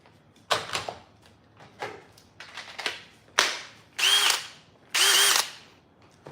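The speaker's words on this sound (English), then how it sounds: "just get some visual identification marks for our Forstner bit." A Forstner bit drilling during van building work: a run of short scraping and cutting bursts, then three louder, steadier whirring spells of a drill, close by with pauses between them and no voices.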